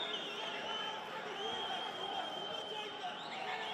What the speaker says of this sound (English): You can hear the crowd getting amped over here